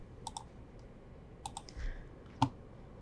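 Computer mouse clicks while working in Blender software, a few sharp, close double clicks spaced apart over quiet room tone, with one louder click near the end.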